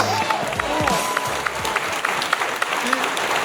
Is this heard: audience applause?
yes